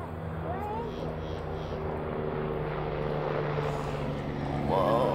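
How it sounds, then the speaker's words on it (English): A helicopter flies overhead outdoors, a steady low engine drone that stays constant and swells a little louder toward the end, with people talking over it. "Oh yeah, it is a helicopter."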